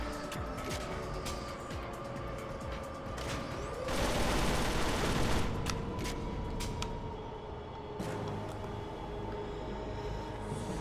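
Gunfire in the video game 007 Agent Under Fire, a steady stream of rapid shots under game ambience, swelling into a louder burst midway and continuing to the end.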